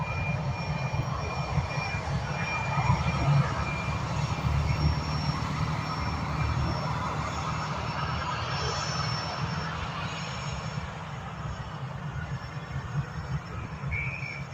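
Aer Lingus flight EI698 taxiing at Dublin airport, a steady droning jet engine rumble held at moderate distance throughout, with a faint high whine above it.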